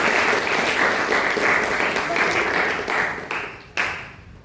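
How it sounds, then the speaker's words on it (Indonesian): A high-school class in a church-studies lesson claps together after a group presentation, producing a dense, steady burst of hand clapping that thins out in its final second, with a few voices mixed in. "Beri tepuk tangan dulu."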